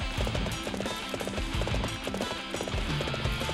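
Horse hooves galloping in Dynasty Warriors 7, a steady rapid clip-clop rhythm that stays close and loud over busy battlefield game sound, with no talking.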